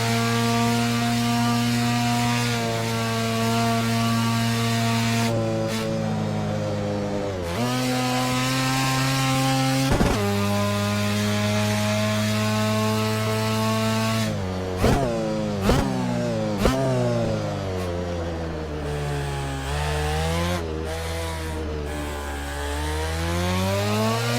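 A Mazda RX-7 rotary engine in the Assetto Corsa racing game revs hard and sustained with a buzzy, saw-like drone, its pitch climbing through gears with sharp dips at each shift, loud and close throughout with no talk.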